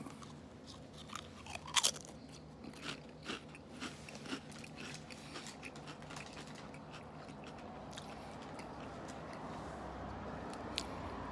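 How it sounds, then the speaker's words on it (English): Crunchy ghost pepper chips bitten and chewed close by, with a few sharp crunches early on, then softer chewing over faint background noise. "I'm gonna try one of these ghost pepper chips."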